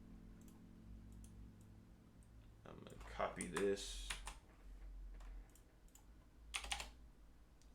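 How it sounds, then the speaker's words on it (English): Someone types on a computer keyboard, producing quiet, quick clicking keystrokes that build into a louder flurry midway, with someone talking briefly over them. "I love the sound of this keyboard"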